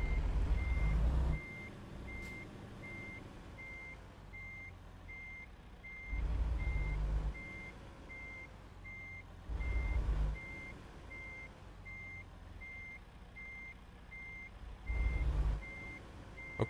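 In American Truck Simulator, a truck backing up emits a steady, evenly spaced series of reversing beeps throughout, over a low engine drone that swells in several louder bursts.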